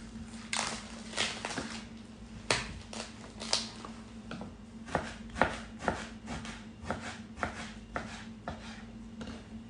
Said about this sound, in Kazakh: Тауықтың еті, грудинкасын турап жатырмын.